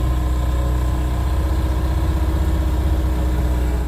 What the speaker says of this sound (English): The engine isn't sounding too great.